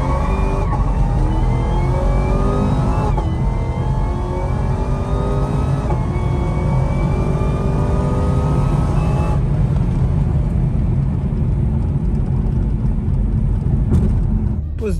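A supercharged Chevrolet Camaro accelerating hard on an open road, its engine roaring loudly with rising, shifting pitch for the full stretch as it pulls through the gears.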